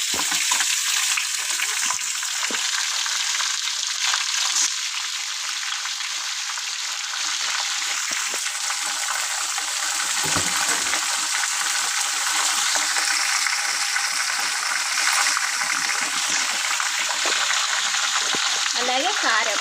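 Chicken washed with turmeric and salt frying in a pan for chicken curry, a continuous loud bright sizzle and crackle holding steady throughout, with faint handling noises beneath.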